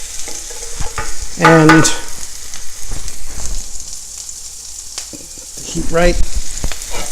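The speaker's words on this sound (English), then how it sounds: "So I'm going to let these saute for a little while. Just toss them around so that they're coated." Sweet potatoes with other vegetables sauteing in a pan, crackling and sizzling steadily while being stirred and tossed, with a few clattering bursts; a voice speaks briefly over the frying.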